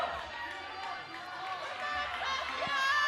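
A crowd at the Yank-N-Yard 2018 climbing finals cheers on a hometown climber, a broad, steady roar of voices that swells toward the end, heard from amid the audience with chatter mixed in.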